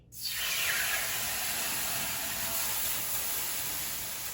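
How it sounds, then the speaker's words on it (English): Water in an old baking dish inside a hot oven preheated to 425 degrees gives off a loud, steady hiss of steam during sourdough bread baking. The hiss starts abruptly and holds evenly, close up. "The steam will help the bread continue to rise before hardening and then giving it a crispy crust."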